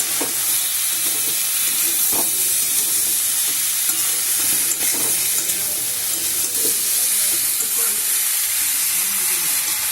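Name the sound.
stirring cauliflower samosa filling in a frying pan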